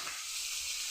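Fish frying in hot oil, a close, steady bright sizzle and hiss that stays even the whole time with no voices.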